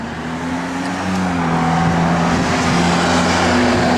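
A car engine with Flowmaster dual exhaust and a 10-bolt 3.73 limited-slip rear end idles with a loud, steady, deep rumble that rises slightly partway through and holds, with no talk over it.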